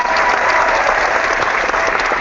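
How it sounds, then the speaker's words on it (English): A canned applause sound effect plays as a loud, full and unbroken wash of crowd clapping from start to finish. "I had to put one of the cheesy applause there"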